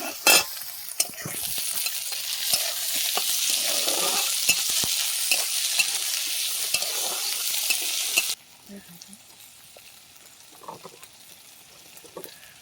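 Fresh live pond shrimp frying in a pan with ginger-garlic paste and green chili, a steady loud sizzle with stirring scrapes for about eight seconds before dropping to faint crackles.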